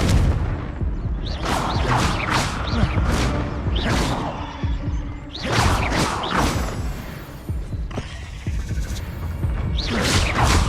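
Repeated magical blasts from Confringo spells in the Hogwarts Legacy video game, a run of loud booming bursts in quick succession with whooshing tails, layered over busy combat noise.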